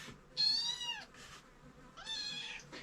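Hungry kittens give two loud, close meows about a second and a half apart, each with fainter mews around it, heard alone without talk.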